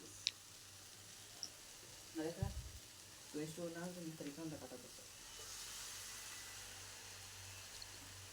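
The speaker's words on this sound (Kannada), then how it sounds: "ಇದನ್ನು ಒಂದು 5 ನಿಮಿಷಗಳ ಕಾಲ ಚೆನ್ನಾಗಿ ಹುರ್ಕೊಬೇಕು" Onion samosa masala with soy sauce frying in a pan: a quiet, steady sizzle with a few clicks of stirring, while a person talks partway through.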